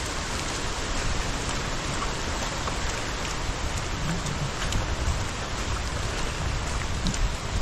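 Heavy typhoon rain pours down steadily in a dense, loud roar of drops on surfaces, unbroken for the whole stretch with no voices.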